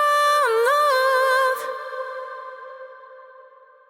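Reverb throw on a sustained synth tone through an LX480 Random Hall HD preset with clean low end: a bright harmonic chord, a brief swell and cut, then a smooth hall tail fading gradually.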